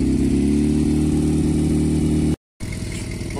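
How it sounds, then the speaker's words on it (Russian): Kawasaki ZZR motorcycle engine idling while warming up at its first start of the season, a steady close low rumble with a fast even pulse, briefly cut out then resuming at the same idle. "Что, ребят, мотик греется"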